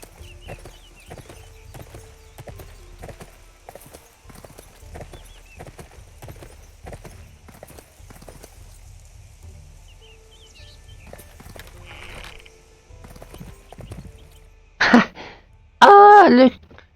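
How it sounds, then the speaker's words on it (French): Horse hooves clip-clop steadily on a hard floor indoors in the video game Sacred 2, a regular rhythm of fairly quiet hoof steps. Louder sharp game sounds break in near the end. "Pourquoi vous rentrez à cheval?"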